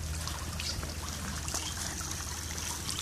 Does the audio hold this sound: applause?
no